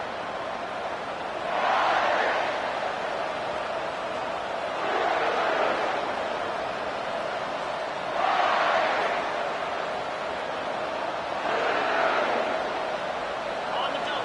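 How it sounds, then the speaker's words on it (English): A stadium crowd in the College Football 25 video game rumbles steadily, swelling in four periodic surges of cheering every few seconds, heard at moderate distance. "This crowd bringing the energy and noise early."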